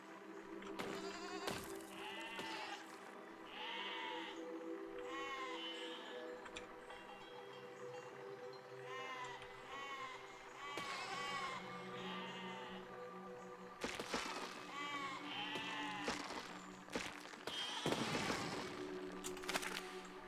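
Repeated sheep bleats, wavering and nasal, rise over a steady electronic hum and game-like background noise, with occasional sharp thumps, in the video game Besiege.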